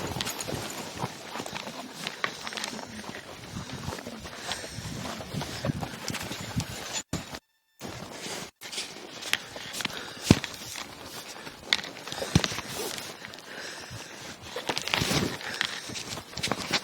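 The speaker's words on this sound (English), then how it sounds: "Horse is leading just fine." A roped horse being led at a walk, its hooves thudding and clopping in a steady close rhythm over continuous wind-like noise, with a brief dropout partway through.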